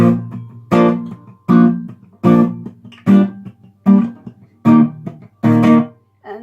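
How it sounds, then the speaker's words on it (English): Acoustic guitar strummed in a steady pattern for a song, alternating short muted dead strums with fuller ringing strums, about eight clear strokes heard alone and close. "And then again you play these dead strums and 1 normal strum for the first 2 chords"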